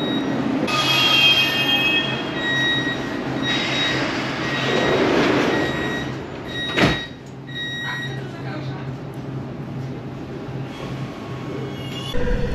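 A metro train rolls into Centrum station in Poland with a broad rumble and faint high squeals, a sharp clunk midway, then a quieter steady hum.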